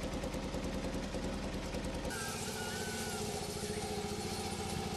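A motorcycle engine in rural western Ukraine runs steadily throughout, a loud close throbbing idle with a dense rhythmic pulse that shifts to a rougher, lower beat partway through.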